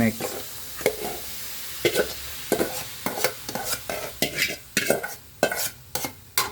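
Mung beans and pork are stirred in a pot, a spoon scraping and knocking in an irregular rhythm of close, fairly loud strokes over a soft background sizzle.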